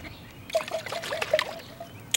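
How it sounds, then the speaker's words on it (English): Liquid plant-spray mixture pouring into a spray bottle in short trickling bursts, a light splashy dribble close by with no talk over it. "Mix it up like that and you would pour it into the spray bottle."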